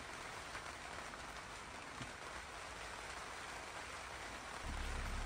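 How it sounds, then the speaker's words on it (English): Steady soft hiss of rain falling on a boat's boom tent at Plymouth, constant and even, growing slightly heavier with a low rumble near the end. "I've got the boom tent up because, well, it is raining."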